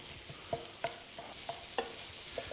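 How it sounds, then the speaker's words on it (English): A spoon scrapes and stirs rice in a hot pan for fried rice, giving soft, irregular clinks and scrapes over a faint steady sizzle, fairly quiet and close, with no talking. "Break up the rice with a spoon."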